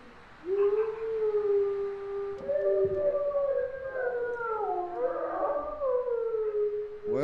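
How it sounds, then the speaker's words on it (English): In the VR horror game Home Sweet Home, several dogs howl together, drawn-out mournful wails starting after a short quiet moment, rising and overlapping as more voices join, loud and close with no speech. "Some dogs howling at something."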